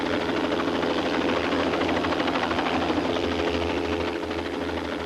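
A helicopter lands in a front yard during a rescue, its engine and rotor making a loud, steady, close roar that holds nearly unchanged throughout.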